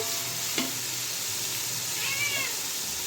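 Chicken tehari spice masala frying and being stirred in a pan: a steady broadband sizzle with a sharp scrape early on and a brief squeaky, meow-like tone partway through, no talking.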